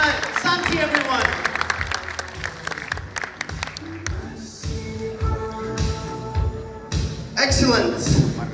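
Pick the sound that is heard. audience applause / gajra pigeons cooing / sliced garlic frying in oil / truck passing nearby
audience applause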